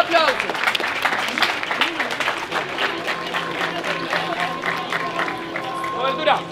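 An audience at a rap battle tournament semifinal claps and cheers loudly and continuously, dense applause with crowd noise while a host shouts over it.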